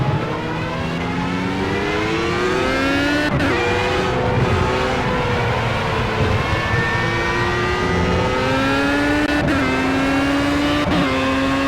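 A Formula A race car engine in the Project CARS game at the Nurburgring screams loudly and continuously. It rises through the revs, drops sharply on each gear change and then climbs again, with no voices over it.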